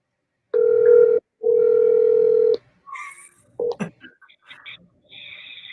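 A telephone call goes out: two long, loud, steady tones from the handset, then a scatter of short electronic beeps and chirps.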